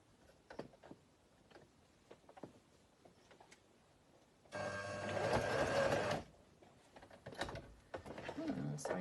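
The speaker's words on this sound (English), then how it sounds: "Sewing machine's eating my fabric." A sewing machine whirs in a short burst of about two seconds while sewing down the hem of a fabric mask, amid quiet handling clicks and rustles, with faint talk nearby.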